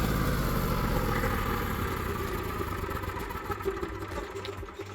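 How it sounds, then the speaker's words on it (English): An Onan QG 5500 generator idles steadily while warming its oil before an oil change, a continuous close engine drone with a mechanical clatter that holds even, easing slightly toward the end, with no talk. "You're gonna wanna run your generator for 2 or 3 minutes to warm the oil up first."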